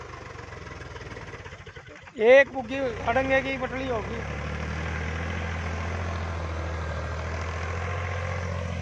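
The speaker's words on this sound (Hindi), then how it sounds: "पावर ट्रैक ट्रैक्टर है 50" A Powertrac 50 tractor pulling a cultivator through waterlogged field ground, its engine settling into a steady low idle-like rumble after a burst of loud talk and shouting up close.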